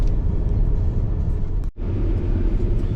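A car driving on a road in France, heard from inside as a loud, steady low engine and road rumble with one brief dropout, no talking.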